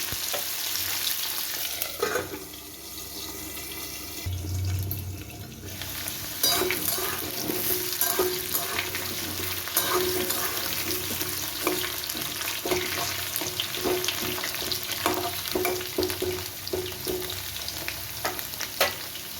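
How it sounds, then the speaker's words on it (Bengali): Potatoes frying in hot oil while being pressed down in the pan, a steady close sizzle running throughout with scattered utensil scrapes and taps, no talking. "আমি আলুটাকে চাপা দিয়ে দিয়ে ভেজে নরম করে নেব"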